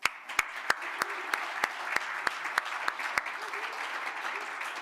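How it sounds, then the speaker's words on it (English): Scattered applause for six junior finalists at an awards ceremony, a thin smattering of claps with a few sharp, distinct hand claps standing out, fairly quiet and steady. "How about a round of applause for them?"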